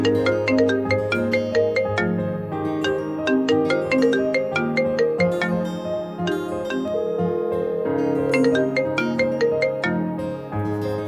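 A phone ringtone for an incoming call plays alone, a bright repeating melodic chime of quick tinkling notes that loops steadily for several seconds at close range.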